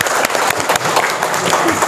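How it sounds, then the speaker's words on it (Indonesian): An indoor audience at the opening of a national education day seminar claps steadily together, a dense, even wash of applause lasting throughout with faint voices underneath. "Terima kasih sekali lagi tepuk tangannya"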